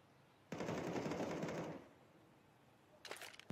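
Rapid automatic gunfire in Counter-Strike 2 on the Inferno map, a dense burst of about a second and a half followed by a couple of sharper shots near the end, loud and close with no talk.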